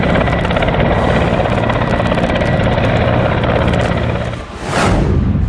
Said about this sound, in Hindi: एक के बाद एक कई हेलीकॉप्टर रेगिस्तान के आसमान में अपनी धमक दिखा रहे हैं